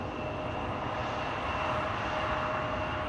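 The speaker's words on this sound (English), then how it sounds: "And a Delta A350. On its way to runway 24." A Delta Airbus A350 taxis toward runway 24 at Schiphol Airport, its engines giving a steady, moderately loud whine and rumble that holds even throughout, with a thin high tone running through it.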